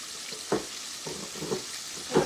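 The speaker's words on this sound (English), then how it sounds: "I'm going to fry the chicken." Chicken legs fry three at a time in hot oil, giving a close, steady sizzle broken by a few louder crackling pops, with no voices.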